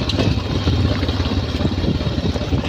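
Habal-habal motorcycle taxi on a mountain road near Cabayo, Nueva Vizcaya, its engine droning steadily and close for the whole stretch, with no voices over it.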